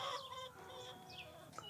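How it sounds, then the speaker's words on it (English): A backyard flock of hens gives soft, overlapping clucks and chirpy calls throughout, moderately close, with no talking. "There's my flock of chickens."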